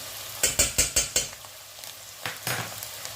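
Lamb mince fried with grated ginger sizzles in a pan as five quick, evenly spaced utensil strokes scrape and stir near the mic, followed by a couple of softer stirs and a steady hiss underneath.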